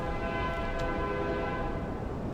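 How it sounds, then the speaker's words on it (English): A train rumbles steadily in the background with a sustained, droning horn-like tone over broad, rough noise, loud and constant throughout with no talk. "Oh, and there's a train."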